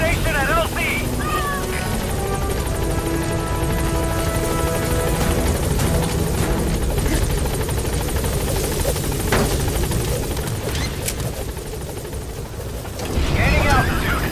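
Pequod helicopter in the Metal Gear Solid V video game, a loud steady rotor roar and whine filling the whole stretch, with radio-style voice chatter over it and a brief rise near the end.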